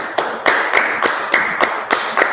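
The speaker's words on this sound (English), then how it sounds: "let's clap it up." A small group claps in a rhythmic pattern of sharp, evenly spaced beats, close and fairly loud, with no talking over it.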